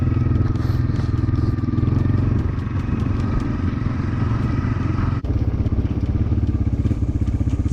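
A Honda 300 4x4 ATV engine drives through swampy, grassy terrain, with a loud, steady rumble and rapid pulsing exhaust close by. A brief clatter or thud comes partway through, then the engine note continues.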